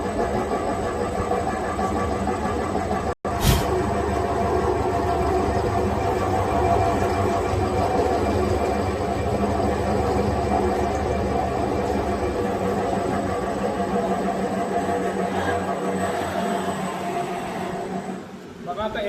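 A CNC milling machine runs its program under continuous broadband machine noise with a steady low hum. It holds level throughout, broken only by a sharp click near the start, and no voices are heard.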